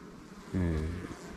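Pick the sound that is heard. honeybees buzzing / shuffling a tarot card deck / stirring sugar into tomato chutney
honeybees buzzing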